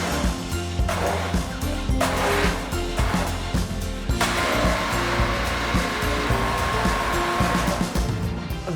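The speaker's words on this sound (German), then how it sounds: "Also aus der Distanz und pürieren." Hand blender whirring steadily through Finnish vispipuuro, a berry porridge in a pot, a loud continuous motor drone with small shifts in pitch as the blade works through the mixture.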